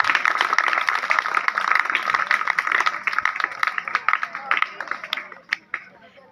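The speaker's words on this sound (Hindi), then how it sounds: "तालियां बजाकर इनका स्वागत करें" Guests and students at a retirement function clap together in a dense, steady round of applause that thins and fades out toward the end.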